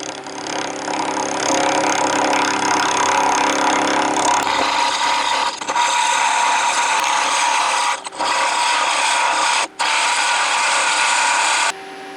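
An aluminum bowl spins on a wood lathe at about 2,000 RPM, giving off a steady, loud broadband whir. A few brief dropouts break it near the end.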